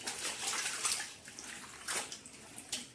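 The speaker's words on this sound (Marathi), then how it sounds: "पाण्यामध्ये असे पानं टाकून असे छान असे धुवून घ्यायचे" Colocasia (taro) leaves being washed by hand in a bowl of salted water, giving soft splashing and sloshing bursts close by, with no talking.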